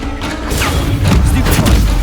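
An Incendio fire spell cast in Hogwarts Legacy, a short loud whooshing burst with booming impacts layered over busy combat noise, a character voice calling out over the action.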